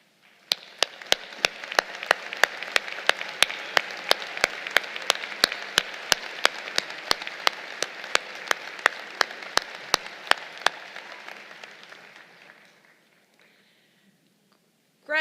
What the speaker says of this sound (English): let us welcome you with a round of applause